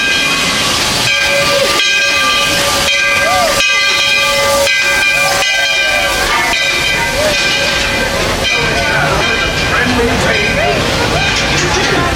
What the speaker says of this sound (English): So here we are on the old school train in the park